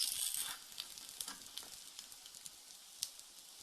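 Eggs frying in a pan for a Ugandan bird's nest breakfast with cabbage, a soft steady sizzle with small crackles and pops scattered throughout, fairly close.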